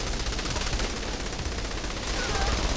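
Rapid gunfire from the video game Saints Row 3, a dense continuous burst of shots filling the whole stretch at steady loudness, with in-game noise layered underneath.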